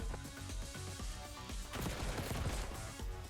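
Rapid bursts of gunfire in a first-person shooter, dense overlapping shots and automatic fire rattling continuously for a few seconds, fairly quiet in the mix with no talk.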